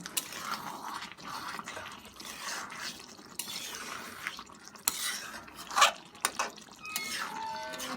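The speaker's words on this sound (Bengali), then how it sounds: "ঢেলে নেব" Cooked potato curry with pickle scraped and poured out of a pot, with soft wet slides, drips and light metal clinks from a utensil in an irregular pattern, close and quiet, with no speech.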